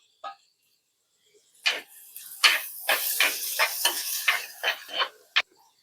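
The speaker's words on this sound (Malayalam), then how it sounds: "അതും കൂടി ഇട്ടൊന്ന് വറുക്കാം" Tomato sizzling and being stirred in a pan for a prawn roast curry, a series of short scraping bursts with frying hiss between, close and fairly quiet.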